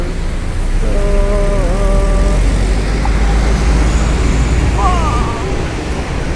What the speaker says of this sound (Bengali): যাইতেছে সব ডাবল ডেকর